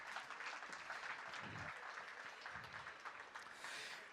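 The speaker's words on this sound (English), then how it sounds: "Can we have a big round of applause for him" Audience applause for a panelist being welcomed on stage at a literature festival session, a continuous quiet spread of clapping from a seated crowd, fairly distant and even throughout.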